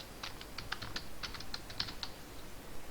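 Typing on a computer keyboard to enter a search term: a quick, uneven run of light key clicks, close and clear, with no talking.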